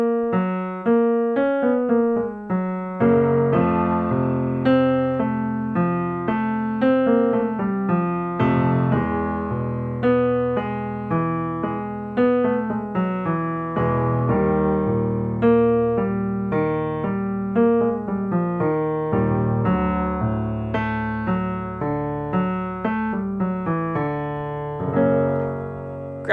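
A baritone's lip trill warm-up over the vocal break: a sustained buzzing voice glides through pitch patterns alongside rhythmic piano chords, steady and close for the whole stretch.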